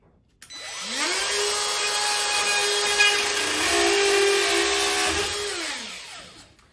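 A power tool saws steadily through drywall around an electrical outlet box on a basement wall, a loud whining cut of about five seconds that starts abruptly and winds down at the end, with no talk.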